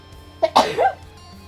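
A single sharp sneeze bursts out near and loud, preceded by a brief intake of breath, then quiet.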